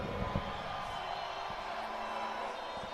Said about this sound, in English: Get ready to hear the crowd go wild.